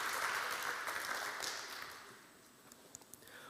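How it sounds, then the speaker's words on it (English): Seminar audience at VIV Utrecht 2022 claps for a speaker, fairly quiet, steady applause from a modest crowd that tapers off, leaving a few scattered claps near the end. "So a big round of applause for Lara Hoving."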